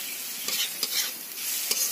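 Onions frying with a little salt in a pan, a bright continuous sizzle with a few soft stirring bursts, close and steady throughout.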